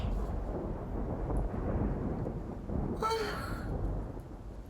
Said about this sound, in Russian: вон как гремит гром